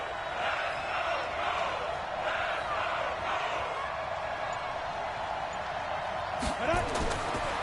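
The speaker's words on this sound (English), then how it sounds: "the crowd getting into it as we come up on a big 3rd down" A Madden NFL video game stadium crowd cheers and roars steadily ahead of a big third-down play, while commentary runs over it and a few thuds sound near the end.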